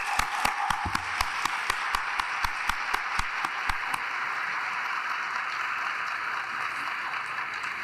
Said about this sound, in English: I want the class of 2022 to join me in a round of applause for our professors just one last time.